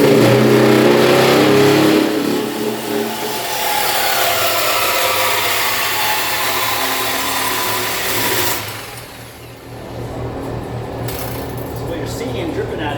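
Power saw blade grinding through a rusted car exhaust pipe, a loud whining, rising and falling cut that eases and then resumes after a brief dip, with speech audible alongside.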